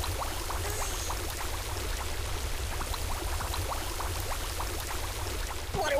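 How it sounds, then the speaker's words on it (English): Water pours steadily onto Buddy in the video game Kick the Buddy, a continuous splashing, hissing stream with small drips, heard alone without talk. "Water, water everywhere!"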